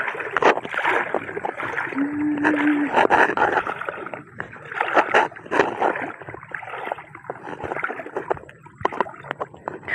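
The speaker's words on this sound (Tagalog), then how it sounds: "ang lakas ng agos na dadaanan ko puro sa lubong lahat" Someone wades alone through strong, fast floodwater in flooded rice fields after a typhoon, with loud, continuous sloshing and splashing around the legs and churning water rising and falling in surges, with no talk.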